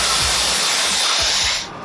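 A Dyson Airwrap hair styler blows its cold shot, a loud, steady rushing hiss of air close by that fades at the end, with faint low thumps underneath.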